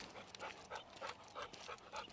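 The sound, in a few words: dog panting in the background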